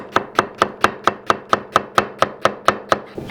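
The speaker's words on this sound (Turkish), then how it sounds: "Öncelikle soğanı doğrayacağız." A knife chops an onion steadily on a cutting board, about fourteen quick, evenly spaced crisp knocks in a row.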